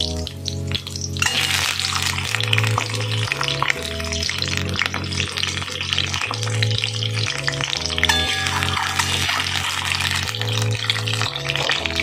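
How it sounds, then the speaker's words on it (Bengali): Eggs and spices fry steadily in a pan for egg biryani, a continuous loud sizzle with stirring scrapes and background music layered over it, no voices. "সাথে ডিমগুলো দিয়ে দেবো, সব একসাথে ভেজে তুলে নেবো।"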